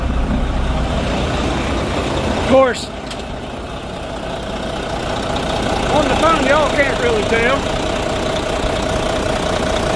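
A Volvo D13 diesel truck engine idles after new injector O-rings were fitted, a steady low rumbling chug that runs smooth and even throughout while someone talks over it.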